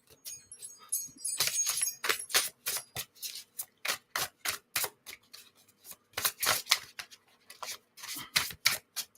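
Playing cards shuffled by hand during a card reading, a run of quick crisp riffling bursts and snaps close by, alone without talk.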